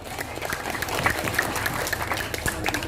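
A crowd gives the village head a round of applause at a village gathering in Wengkal, Rejoso, Nganjuk: steady, dense clapping from many hands that lasts throughout at moderate volume.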